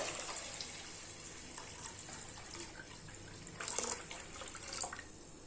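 Water splashes and trickles faintly into a pressure cooker holding rice and lentils, with a soft steady pour and a few louder gurgles near the end.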